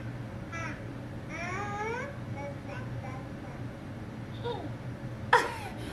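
An electronic toy doll emits warbling, whiny baby-like cries and babble over a steady background hum, ending with a short sharp burst.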